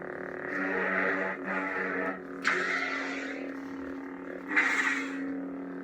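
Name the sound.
lightsaber hum sound effect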